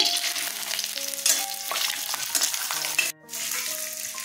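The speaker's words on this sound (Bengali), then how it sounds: "সর্ষের তেল দিয়ে দিচ্ছি, তেল গরম হয়ে গেছে, বাদামগুলো ছেড়ে দিচ্ছি" Peanuts frying in hot mustard oil, a steady close sizzle with clatter from stirring. A brief dropout near the end, then the frying resumes.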